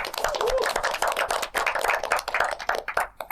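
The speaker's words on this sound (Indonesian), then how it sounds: "Tepuk tangan dulu." A group of people claps together in a dense, quick patter of hand claps that lasts a few seconds, fairly loud and close, at a campus talk show.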